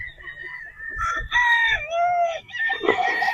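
A Sweater Boston Roundhead three-way cross gamefowl rooster crows nearby, one long, loud, rising and falling call with clucking and a bit of rustle around it, and no talking.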